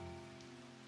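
Gentle rain in the Inn Tycoon video game, a steady soft patter running under a sustained musical drone for under a second.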